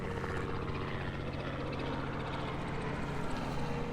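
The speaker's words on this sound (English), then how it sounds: "Is that a black helicopter?" A steady, droning helicopter engine hums continuously with a low rhythmic beat as it passes overhead at moderate distance on a snowy winter day. No voices are heard.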